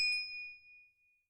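A single bright notification bell ding, struck once and left to ring out alone, clear and close, with a smooth tone that fades slowly to silence.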